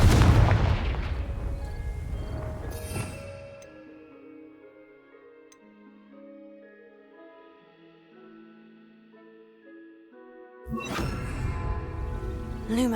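A Confringo explosion spell goes off in the Hogwarts Legacy video game with a loud, close boom that fades into ringing tones, and a second burst arrives near the end.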